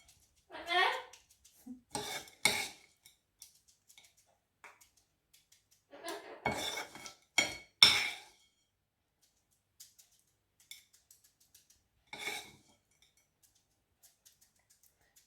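Bird seed stirred in a bowl in a home kitchen, mixed with melted fat: short bursts of gritty rattling and scraping separated by quiet pauses, close and fairly soft, with a voice speaking at times.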